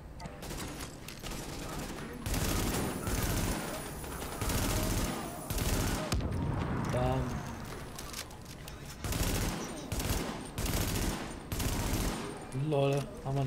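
Continuous rapid gunfire and explosive bursts in the video game Tom Clancy's The Division dominate, loud and dense throughout, with brief musical or electronic tones poking through between volleys.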